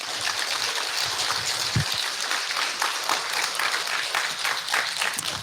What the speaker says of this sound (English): would y'all give me a round of applause for that?